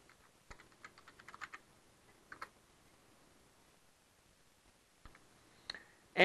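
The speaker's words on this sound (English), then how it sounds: "didn't look where I was typing." Quiet keystrokes on a computer keyboard during Java coding, short clusters of soft clicks separated by pauses, with a couple of louder taps at the end.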